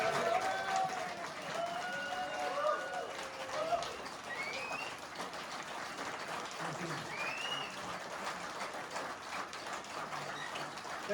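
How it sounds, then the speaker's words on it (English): Audience round of applause at the end of an evening show, a moderately distant, continuous clatter of clapping with a few cheers and whoops rising over it. "Can we just have one last round of applause for this fantastic?"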